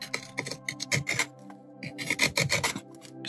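A gouge carves a walnut wooden spoon, its back sliding along the wood in short, close scraping strokes that come in two quick bursts with a brief pause between.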